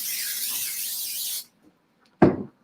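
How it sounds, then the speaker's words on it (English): Cooking spray hisses steadily into a 9x13 baking pan for about a second and a half, close and fairly loud, followed by a short clatter after a brief pause. "take your 9x13 pan and you're going to spray it"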